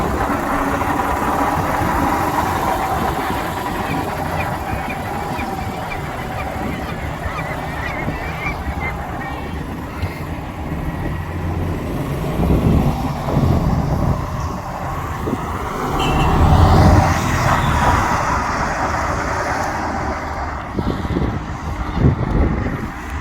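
A 30-litre engine runs steadily at a heritage railway in Fife, Scotland, a constant loud rumble with louder surges toward the end and no speech over it.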